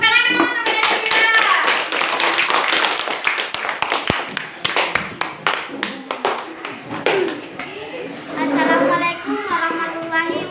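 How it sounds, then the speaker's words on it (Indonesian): A classroom of children claps for a student, with a mix of steady and uneven clapping that fades into voices, and speech heard before and after. "Beri tepuk tangan dulu untuk Ananda Fira."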